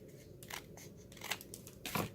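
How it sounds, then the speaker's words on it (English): A few crisp snips from heavy scissors cut through thick card paper, spaced irregularly and close up, fairly quiet with no talking. "I like to use my good, thick, heavy pair of scissors."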